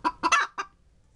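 A Japanese silkie hen clucks while laying eggs, giving four quick close throaty clucks in a short burst with no talk.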